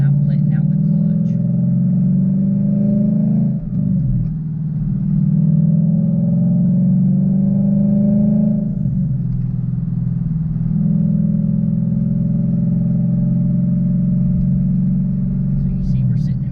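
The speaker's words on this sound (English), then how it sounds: "you guys will hear that exhaust change when we're at a stop and I'm letting out the clutch" Manual car's exhaust as the clutch is let out from a stop: a steady, close engine drone that dips and rises twice as load changes, continuous throughout.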